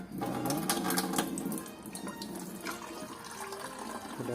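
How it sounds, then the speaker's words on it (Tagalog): Water runs from an opened tap while filling the tank of an air cooler, a steady splashing gush with bright spattering peaks early on, settling into a softer continuous flow. "So buksan natin itong gripo."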